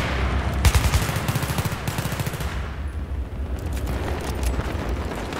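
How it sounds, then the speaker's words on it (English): Automatic gunfire in Battlefield 3 on the Talah Market map in Scavenger Conquest mode: rapid machine-gun bursts close by, a pause, then more rattling fire fading into a wash of distant shooting. "Why are you shooting for no reason, man?"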